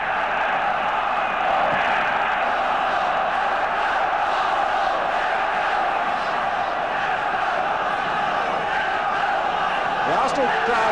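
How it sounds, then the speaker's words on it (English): A large football crowd at the 1971 FA Cup Final, Arsenal against Liverpool, keeps up a dense, loud, continuous roar of chanting and shouting from the stands throughout. "Bristol crowd beginning now to make a wee bit more noise than the Liverpool people"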